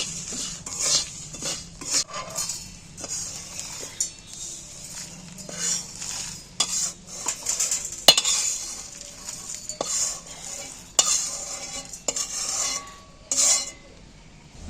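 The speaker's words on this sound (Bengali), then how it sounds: "মিক্সারের জারে মশলা ভাজাটা আমি এতে ঢেলে নিচ্ছি" Fried spices for a raw mango pickle are scraped from a pan and poured into a mixer jar, making repeated metallic clinks, scrapes and rattles close by, with no talking.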